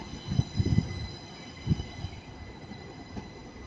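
Northern service train arriving at Manchester Piccadilly station, bound for Manchester Airport: low rumble and rhythmic wheel thumps over rail joints under a steady high tonal whine, fairly faint and continuous.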